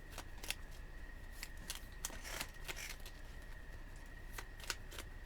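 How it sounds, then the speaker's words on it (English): Tarot cards being shuffled by hand, a steady papery riffling with repeated sharp flicks and snaps over a faint hiss, close and fairly quiet with no talking. "we're going to shuffle them"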